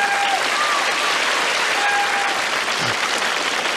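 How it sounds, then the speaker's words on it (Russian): Studio audience at a televised hypnosis show bursts into steady, dense applause that fills the room evenly from start to finish, with no voices rising above it. "Так, аплодисменты вам."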